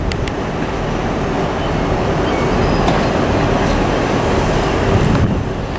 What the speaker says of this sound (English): terminating in at Aberdeen now is going to be another Scotrail HST on test.